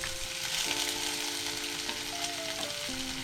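Chopped onion sizzling steadily in hot oil with cumin for veg pulav, a continuous close frying hiss with faint tonal hum underneath, no talk.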